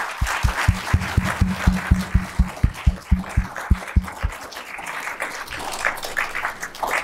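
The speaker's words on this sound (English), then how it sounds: "Let's give Jim one more round of applause." Applause from a symposium lunch audience for a speaker named Jim, starting as strong, evenly paced claps close by and thinning into looser, scattered clapping under background room murmur.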